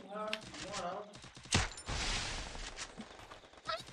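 Gunfire in a first-person shooter video game, a sharp burst of shots around the middle followed by a noisy rattle of firing, with players talking over the game sounds.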